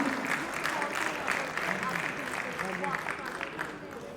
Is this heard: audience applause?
yes